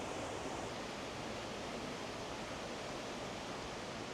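Loud, unbroken roar of a fast river flowing through the Kennall Vale woods beside an old gunpowder works, heard close and steady throughout with nothing else audible.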